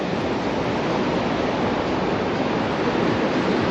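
Surf breaking on a sandy southern beach at Pelabuhan Ratu forms a steady, loud, unbroken wash of waves that fills the whole stretch with no voices.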